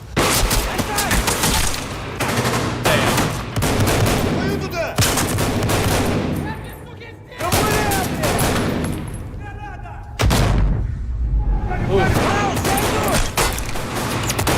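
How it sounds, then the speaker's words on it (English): Video game combat with rapid bursts of gunfire and blasts, including a grenade explosion. Loud, dense volleys are broken by short pauses over roughly fifteen seconds. "the sound of that grenade"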